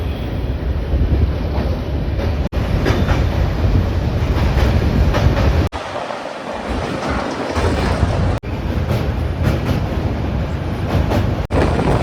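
The Kanchankanya Express from Sealdah to Siliguri rumbles along at speed with a loud, continuous roar, steady wheel clatter and wind buffeting, and a brief dip in the noise midway.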